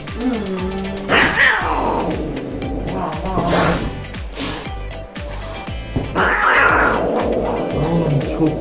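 A cat yowls and caterwauls aggressively while attacking, with two long rising wails and snorting growls between them, loud and close, with human voices and laughter faintly mixed in.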